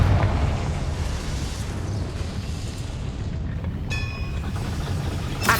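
A Confringo fire spell explodes in the Hogwarts Legacy game with a loud, sustained rumbling boom that fills the whole stretch and fades into a brief bright magical shimmer near the end.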